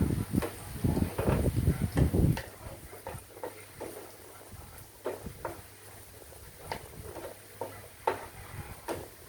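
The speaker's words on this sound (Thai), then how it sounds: "ตอนนี้เรากำลัง เจียวกระเทียมอยู่" Chopped garlic fries in oil in a pan, a close crackling sizzle under repeated ticking scrapes of a spatula, busiest at first and then settling into lighter, spaced stirring.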